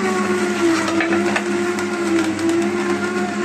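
A juicer grinds a whole bell pepper that is pushed down with a small pestle, giving a loud, steady motor whir with churning, grinding texture throughout.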